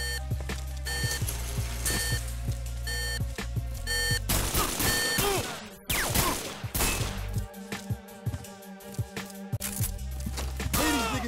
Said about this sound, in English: trigger the entire alarm system to go off